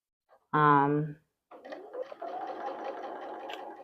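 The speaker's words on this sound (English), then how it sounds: "Let me finish sewing." A sewing machine stitches a quilt in a steady whirring run after a brief voiced sound at the start, close and fairly loud.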